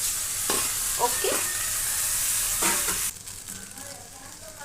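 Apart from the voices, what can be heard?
sautéing vegetables and multigrain pasta in a pan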